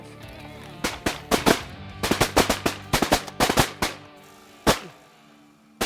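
Shotgun blasts during a pothole duck hunt in a Canadian field, a rapid volley of loud, sharp reports from several shooters in quick clusters, then a lone later shot and the start of another.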